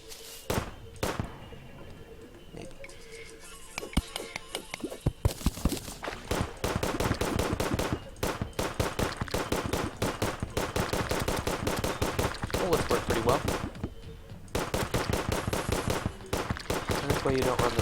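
Rapid gunfire from the video game Terraria as enemies are shot. Dense, loud bursts of sharp repeated shots run almost without a break, with short pauses, and some talk sits underneath.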